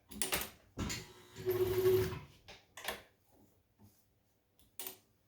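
Kenmore 540 vintage sewing machine running in short mechanical bursts, a rapid whirring stitch with clicks and pauses between runs, close and fairly quiet.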